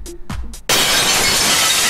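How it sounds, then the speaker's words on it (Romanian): Eyeglasses are smashed in a loud, close shattering of glass that bursts in after a few soft knocks and then sprays on as a dense, bright crash to the end. "ia sparge-mă ochelarii lui aia de lângă tine"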